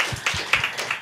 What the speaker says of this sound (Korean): 감사의 박수 올려드립니다